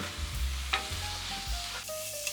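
Fried rice ingredients stir-fried in a hot pan with tuna fish sauce, steady sizzling with repeated scraping and stirring strokes, close up, no voices.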